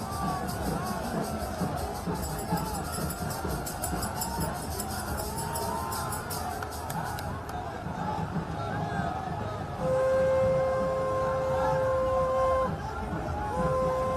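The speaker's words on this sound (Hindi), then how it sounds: "और ये लोगों की भीड़ भी इस वक्त आप देख पा रहे हैं।" A crowd gathers at Yogi Adityanath's road show in Lucknow, a busy outdoor din of shouting, cheering and chatter with horn-like tones and whistles rising above it toward the end.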